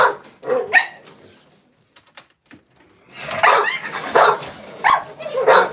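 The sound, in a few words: dogs barking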